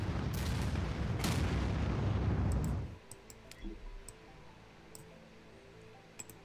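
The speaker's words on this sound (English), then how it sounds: "Launching nuclear missile." A nuclear missile launches in the Anno 2205 strategy game with a loud, roaring rumble that holds for nearly three seconds and then cuts off, leaving faint ticking and small clicks.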